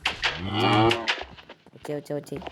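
A cow lows loudly and close by as it is led into a house during a housewarming ritual, one long drawn moo, with people talking around it before and after.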